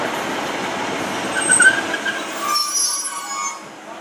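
Trains 15123 and 153382, Great Western Railway units, arrive at Saltash station, a loud rumbling roll with sharp high wheel squeals rising and fading as they slow, no voices.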